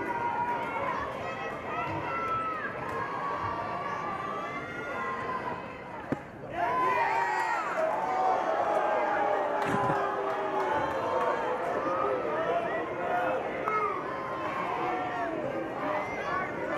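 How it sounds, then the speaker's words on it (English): A softball crowd at an NCAA regional final between Baylor and Louisiana keeps up a steady roar of murmuring and cheering that swells between pitches, with a commentator talking over it throughout. "crowd reacting to every pitch"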